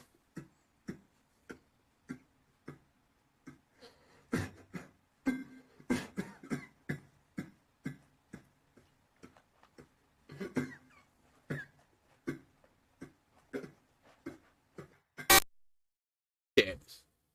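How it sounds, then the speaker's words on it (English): Repeated stifled, muffled coughs in a dark night-time setting, coming in short bursts at an irregular rhythm, mostly moderate with a couple of sharper, louder coughs near the end. "He was trying to muffle his cough so he could escape."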